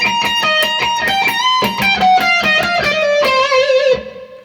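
The closing bar of a guitar solo, from the 2024 Oscars performance, rings out loud and close on electric guitar. Rapid repeated notes lead into a bent note that sustains, then the sound cuts off sharply near the end.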